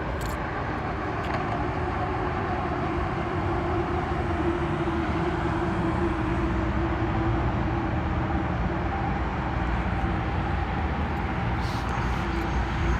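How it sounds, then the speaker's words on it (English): UP Express train running from Union Station to Pearson Airport, heard outdoors on a post-rain morning walk in Etobicoke: a steady, broad rumble and roar held at constant loudness throughout, with no talking. "You can see the Up Express train"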